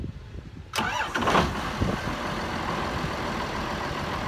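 A tractor engine started by remote control catches and fires up abruptly, then settles into a steady, fairly loud idle with no talking.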